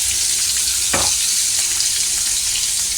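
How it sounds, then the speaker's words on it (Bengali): Fish sizzling in oil in a pan, a steady loud hiss and crackle filling the space close by, with one brief clatter near the start and no voices. "আমি যেহেতু খাবো ওই জন্য ভেজে রান্না করছি"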